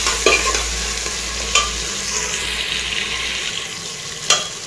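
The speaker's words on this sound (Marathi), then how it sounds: "मिक्स करून घेऊ आणि एकदम मऊ सूत शिजेपर्यंत हे आपण टोमॅटो परतून घेऊ" Tomatoes sauté in a hot pan with a steady, close sizzle, while a spoon stirs and scrapes with a few sharper clinks against the pan.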